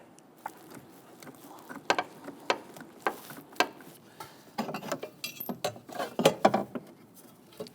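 A ratchet wrench turns a bolt on an intake manifold bracket on the driver's side of a 2011-2021 Jeep Grand Cherokee 3.6L V6, giving short irregular bursts of sharp, close clicks with brief pauses between strokes.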